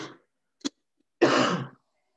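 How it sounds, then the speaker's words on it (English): A single person coughs in a quiet room: a short, sharp burst, then about half a second later a louder, longer, rasping cough. It is close and isolated, with no talking. "just a cough."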